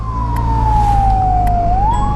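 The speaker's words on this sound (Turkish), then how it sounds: "Ambulans bile takıldı biz aralardan falan geçemedik. Ambulans arkasına takılalım." An ambulance siren in city traffic, recorded from a motorcycle, plays as a loud, near, sweeping wail that slides slowly downward and then rises again over a steady rumble of engine and road noise.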